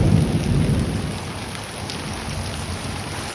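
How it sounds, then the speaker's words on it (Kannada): Steady heavy rain pours down in a sudden shower while the sun is out, with a low rumble of thunder underneath, a dense, continuous hiss filling the whole stretch with no talk. "ಎಂತ ವಿಚಿತ್ರ ಅಮ್ಮ ಮಳೆ ಬಿಸಿಲೆಲ್ಲ ಒಟ್ಟಿಗೆ ಬರ್ತಾ ಉಂಟು"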